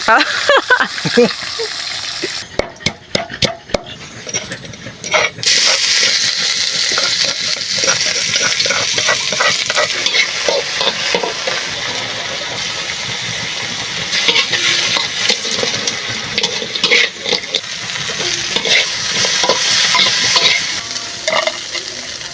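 Freshly caught fish fries in hot oil with salt and chili, giving a loud, continuous crackling sizzle. Bursts of stirring and spattering break in now and then, and a brief clatter of utensils comes near the start.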